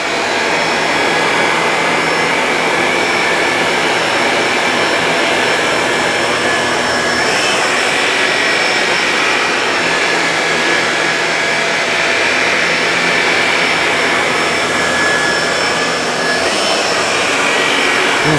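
A Shark Navigator Lift-Away Zero-M upright vacuum picks up hair from carpet with a loud, steady motor whine and airflow roar, continuous throughout with slight surges on each pass and no talking.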